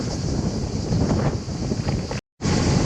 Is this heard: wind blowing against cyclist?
yes